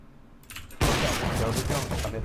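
A rapid spray of gunfire in CS:GO breaks out after a short, softer lead-in, a loud, dense, crackling burst of shots that keeps going to the end, with a voice talking around it.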